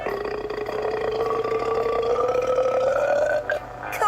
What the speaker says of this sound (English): Burping contest?